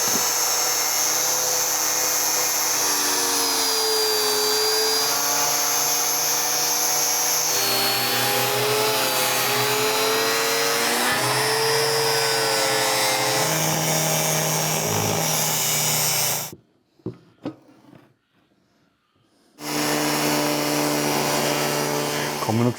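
A cutting disc grinds through the aluminium fins of a car radiator with a loud, steady high whine that shifts pitch as it bites, then cuts out briefly before starting again near the end.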